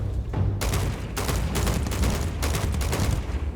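Video game gunfire in Starfield: several rapid bursts of automatic shots crackle in quick succession, loud and close, with brief pauses between volleys and no talking.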